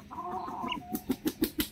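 A rooster gives a drawn-out call, then a run of five short, evenly spaced clucks close by.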